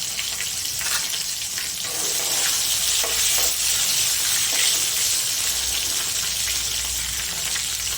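Tomatoes and asafoetida hit hot oil in a pan, giving a steady, close sizzling and frying hiss that carries on without pause, with faint stirring and scraping noises mixed in.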